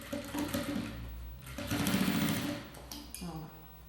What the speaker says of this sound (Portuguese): só vem costurando